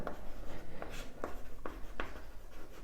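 Chalk or a marker writes on a classroom board in a series of short, brisk strokes with a steady tapping rhythm, close and moderately quiet, with no talk during it.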